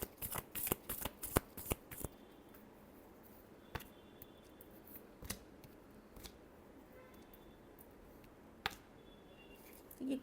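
Tarot cards being shuffled by hand at close range, a quick burst of riffling flicks over the first two seconds, then only scattered single snaps and taps against a faint, quiet background.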